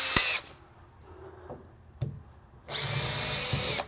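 A power drill whirs in two short bursts during a range hood installation, a brief one at the start and a longer one at the end, with quiet handling noises between.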